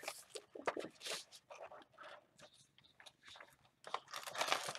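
Kool-Aid dyed papers are handled close up, giving soft, crisp crinkles and rustles in irregular bursts with short quiet gaps. The sound is fairly quiet overall and there is no talking.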